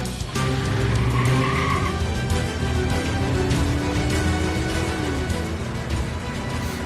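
A speeding car with tires skidding and squealing, its engine roaring loudly and continuously throughout, with a rising tire whine partway through.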